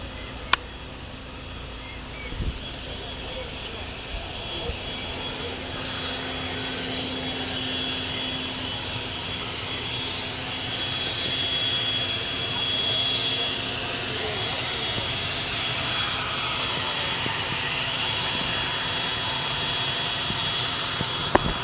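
An aircraft jet engine at an airport makes a steady, continuous roar with a whining hum that drones unbroken throughout, heard from a distance.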